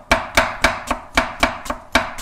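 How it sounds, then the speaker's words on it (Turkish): Knife chopping an onion on a cutting board, about nine crisp even knocks in steady quick rhythm, close and clear with no voices. "Şimdi de soğanımızı doğrayacağız."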